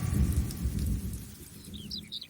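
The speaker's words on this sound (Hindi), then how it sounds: "अब थोड़ी रिमझिम बारिश हो रही है" Steady rain patters down in a continuous soft wash with a low rumble underneath and a few faint bird chirps near the end, no voices.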